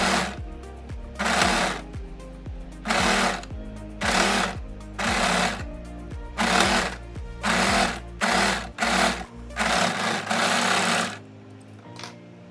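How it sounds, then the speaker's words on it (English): Overlocker sewing machine stitching a summer dress armhole, loud rapid mechanical whirring in repeated bursts of a second or so, separated by brief pauses. "So the next step is to overlock the armhole."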